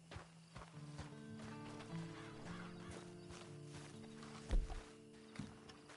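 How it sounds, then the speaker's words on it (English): Slow hoof clops of a horse walking in Red Dead Redemption 2, steady and moderately close, with a low droning background and one louder thump near the end. "Then you better get on this horse."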